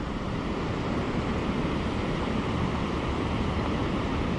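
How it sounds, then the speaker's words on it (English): Waterfalls on the Mohawk River roar as a dense, constant rush of water, loud and steady with no breaks, along with some wind buffeting the microphone. "Look at them waterfalls, beautiful."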